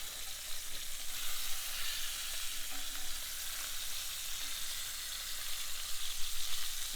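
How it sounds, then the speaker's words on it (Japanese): Lamb shank sears in a pan with garlic, giving a steady close sizzle and crackle that runs on evenly without talk. "それでは最後の面を焼いていきます。"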